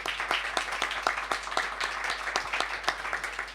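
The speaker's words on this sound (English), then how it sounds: "Give her a round of applause as well." A round of audience applause at a housing justice forum in Melbourne, dense and even clapping from many hands that continues steadily without any voices.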